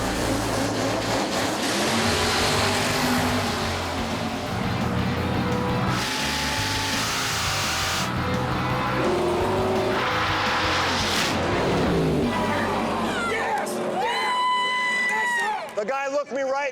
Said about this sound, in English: high-tech nitrous-elevated 500 cubic inch Mopar-powered 1970 Opel GT